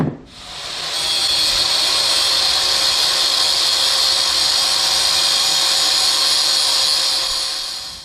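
A grinder cuts a slot into a rear axle pinion during a 3.08 rear gear and positraction install, giving a loud, steady, high-pitched grinding whine up close that runs unbroken for several seconds with no talk.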